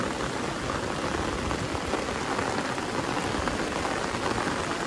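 Heavy monsoon rain pours down on a Gujarat village in Sedarda, a constant dense hiss of drops striking surfaces. It stays steady and loud throughout, with no voices.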